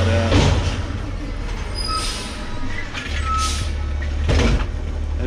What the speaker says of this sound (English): Got a trash truck coming around today.